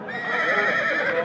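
A four-year-old black horse neighs at a busy horse market in Nookat, giving a loud, sustained whinny that carries on through the whole moment, close by and with no talk over it.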